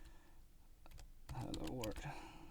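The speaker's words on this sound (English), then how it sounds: "Let's just type something." Someone types a short burst on a computer keyboard at a simulated network host, quick clustered key clicks sounding fairly close, with speech-like sound overlapping the busier second half.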